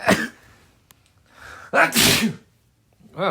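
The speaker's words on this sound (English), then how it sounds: "Yes, you just heard me sneeze in the commentary." A single loud sneeze with a sharp inhaled build-up, followed by a brief breathy exhale and a vocal sound at the end.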